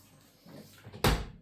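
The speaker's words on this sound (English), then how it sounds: "So now all we've got to do is to shut the door." A dishwasher door being shut in a home kitchen during installation, a single loud close thud near the end after some soft handling noises, close by with no talking.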